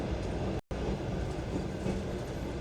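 Steady low rumble of a passenger train rolling on the rails in Uzbekistan, heard from inside a nearly empty carriage, with one brief dropout near the start.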